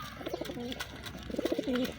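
Pigeons on a pigeon farm give two clear rounds of soft, rolling coos, one early and a louder one near the end, with a steady background hum throughout.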